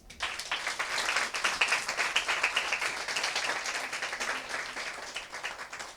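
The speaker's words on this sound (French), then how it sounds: "je voudrais qu'on applaudisse ici" An audience at a school ceremony at Lycée Sainte Marie in Abidjan applauds: dense, steady clapping from many hands fills the full six seconds at an even level, with no voices over it.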